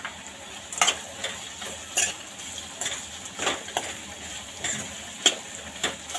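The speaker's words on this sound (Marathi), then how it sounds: "शेव घेतली होती ती परतून घेऊया 2 मिनिटं" Sev being sautéed in a pan for a spicy dhaba-style sev bhaji: a faint low sizzle under repeated light scrapes and clinks of a spoon stirring against the pan, evenly spaced, with no talking.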